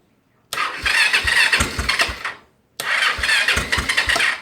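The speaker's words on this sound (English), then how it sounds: "Okay, so ignition on. Hopefully there's enough juice in the battery." A Honda Magna 250 V-twin motorcycle with a weak battery cranks twice in close, loud bursts. Its starter makes a pulsing, labouring churn each time, with a short silence between the attempts, and the engine does not catch.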